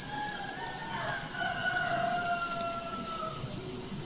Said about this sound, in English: then the roosters answering somewhere across the village.